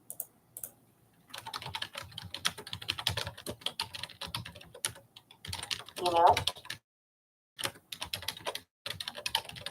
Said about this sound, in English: I'm typing in keywords tags into my YouTube.